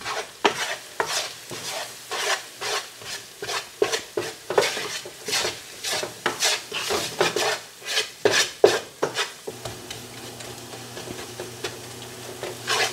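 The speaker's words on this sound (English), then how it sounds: "you just want to keep mixing this around because you want the paprika to get toasted" A utensil scrapes and stirs paprika toasting in a pan in rapid repeated strokes with a light sizzle underneath, close and clear. The strokes stop near the end, leaving a quiet hum.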